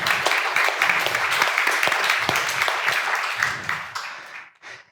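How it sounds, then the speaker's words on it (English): Audience applause at a conference breakout session on digital sovereignty, a dense steady wash of many hands clapping that fades out near the end. "Let's give him a round of applause."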